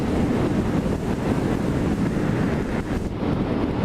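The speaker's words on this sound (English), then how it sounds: "man, it is windy" Steady, heavy wind buffeting the microphone with a constant low roar and rumble, loud and close, with no voices.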